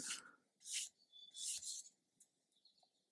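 A sanding stick rasps across the face of a plastic part from an Airfix 1/72 B-17G model kit, in several short scratchy strokes that sound close and fairly quiet, with brief pauses between them.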